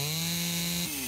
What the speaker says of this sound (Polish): Piła mechaniczna